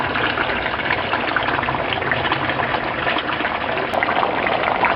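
Water drains steadily from a pea-gravel aquaponics grow bed into a fish tank holding a lobster, with a pump running. The gushing, trickling flow is continuous and fairly loud, with no voices over it.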